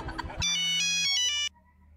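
An incoming-call phone ringtone plays loud and close as a bright, repeating electronic melody for about a second, cutting off abruptly; brief indistinct voices and room noise come just before it starts.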